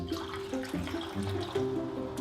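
Alkaline ionized water from a Kangen ionizer is poured into several containers, a soft continuous trickle and splash, fairly faint and steady.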